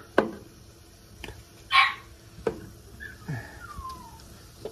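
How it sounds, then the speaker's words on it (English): Couple of puppies barking in the background, wanting to be let out: a few sharp, separate yaps spaced over several seconds, fairly distant and moderately loud, with no talking. "And we got a couple dogs in the background. They want out."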